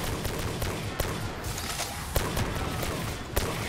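Steady automatic gunfire on a zombies map in a first-person shooter, a loud, dense stream of shots with a few heavier cracks standing out, continuous across the whole stretch with no talking.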